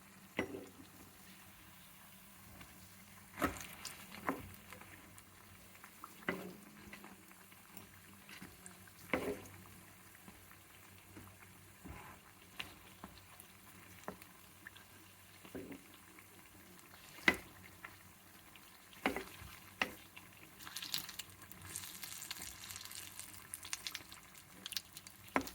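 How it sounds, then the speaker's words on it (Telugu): Bajji fritters in gram and rice flour batter frying in hot oil, a soft continuous bubbling sizzle with scattered sharper clinks and stirring noises throughout. "బజ్జీలు చేస్తున్నాను, వేడి వేడి బజ్జీలు"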